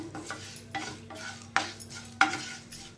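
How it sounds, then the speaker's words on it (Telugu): Tempering spices frying and stirred in a pan for mint chutney, a steady close sizzle broken by a few sharp scrape-and-stir clinks of a utensil against the pan. "ఈ విధంగా అయితే వేయించుకోవాలి అయితే పోపు వేగిపోయిందండి"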